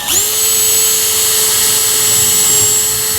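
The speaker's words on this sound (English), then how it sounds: "I'm going to start with drilling straight down on the shoe to set the pilot hole." A power drill whines steadily for about three seconds at a constant high pitch, boring a straight-down pilot hole through an EVA-wood horseshoe, loud and close with no talk.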